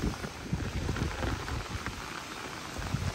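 Heavy village rain driven by strong wind beats down in a dense, steady hiss with scattered louder spatters of drops close by.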